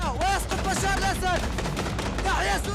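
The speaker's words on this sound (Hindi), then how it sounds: "जीत की खुशी में खुलेआम फायरिंग हो रही है।" Celebratory gunfire from rebel fighters in Syria, with rapid, dense bursts of shots rattling continuously at high volume and voices shouting in the mix.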